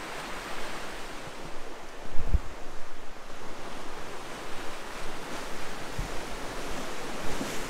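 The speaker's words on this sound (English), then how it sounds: "water rolling over the rocks." Water rushes and churns over rocks in a continuous broad wash, with occasional louder surges and a low wind rumble beneath.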